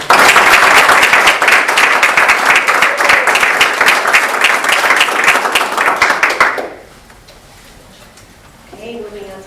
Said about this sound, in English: Can we give a round of applause to this?